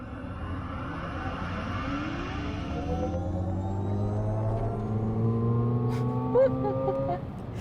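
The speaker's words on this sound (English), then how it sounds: "The Alpine Drive sound is designed to be sportier and more pronounced." An Alpine A290 electric hot hatch plays its sportier, more pronounced Alpine Drive synthetic sound, a steady hum whose tones rise smoothly in pitch as it accelerates, continuous and fairly close, with a brief click near the end.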